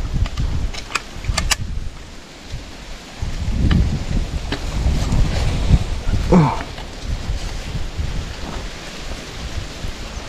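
Heavy rain pours outdoors beside rice paddies during a windy storm, a dense, loud wash of drops with a few sharp taps and a brief rustle mid-way, no talk.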